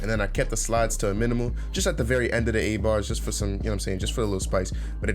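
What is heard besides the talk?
No everyday noises stand out.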